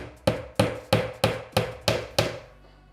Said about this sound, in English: When I go in and I do that same method right at the top of the baseboard and I hammer it in